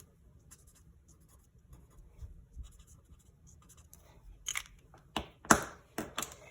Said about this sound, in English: And then I want to go ahead and color my leaves.